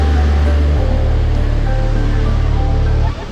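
High-tide sea waves roll in at Kasheli beach in Ratnagiri as a loud, continuous rushing roar with no clear breaks, fading slightly at the very end.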